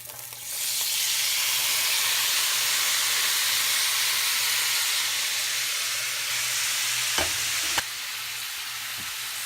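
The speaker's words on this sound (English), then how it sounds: "I'm gonna saute the veggies in it." Vegetables dropped all at once into beef oil in a pan burst into a loud, steady sizzle close by, hissing continuously with a couple of brief clanks of utensils near the end.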